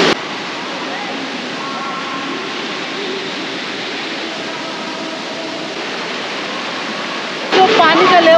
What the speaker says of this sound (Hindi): से वो पानी पूरा गिर रहा है, और गिरने के बाद ये पूरा एक कुंड जैसा बन जा रहा है